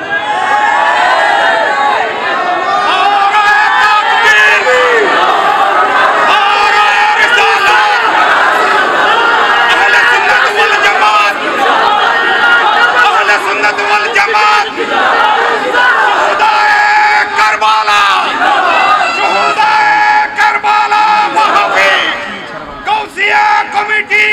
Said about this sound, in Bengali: আমার সাথে কে কে আছেন হাত তুলে স্লোগান দেন।